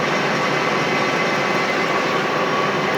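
A metal lathe runs while machining shafts for seeder wheels, giving a steady, loud mechanical hum and whir that holds evenly throughout.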